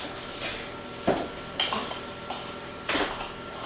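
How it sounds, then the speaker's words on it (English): A spoon clinks and scrapes against a bowl while stirring crushed soda crackers with baking powder, a few short separate scrapes and taps, close and fairly loud. "you're just going to give that a little stir"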